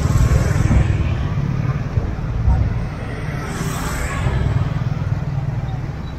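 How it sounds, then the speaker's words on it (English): Motorbikes and other traffic rumble past on a busy street beside a night market in Siem Reap, Cambodia, a continuous close engine drone rising and falling under the murmur of people talking. "Look at all the bikes."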